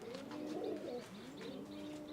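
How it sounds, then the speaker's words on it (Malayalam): Racing pigeons kept in a loft coo close by, with soft, throaty, rolling calls that swell and fade in overlapping phrases over a steady low background noise. "പറപ്പിക്കാൻ വേണ്ടി ചുറ്റിച്ചിറക്കി വെച്ചിട്ടുള്ള പ്രാവുകളാണ്."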